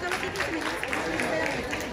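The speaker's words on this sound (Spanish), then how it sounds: "Un fuerte aplauso, por favor." Scattered clapping from an audience greeting judges at a presentation event, a continuous patter of hands under a steady hum of crowd chatter and a voice over it.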